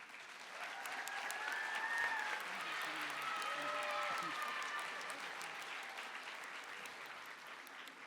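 Applause from the audience at a nursing school graduation celebration honoring master's degree graduates, a moderate steady round of clapping with voices and whoops in it, swelling early then gently fading.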